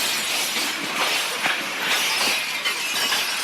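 Glass from every window in a Russian town shattering at once under a meteor's blast wave, heard as a dense, loud, continuous crackling hiss of breaking panes for several seconds.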